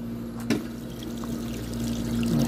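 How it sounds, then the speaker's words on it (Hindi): Cold drinking water pours steadily from a public dispenser in Mecca, a continuous close trickle and gush with a faint hum beneath and a small clunk at the start. "अभी भरता हूँ मैं यहाँ से पानी पीने का ठंडा ठार"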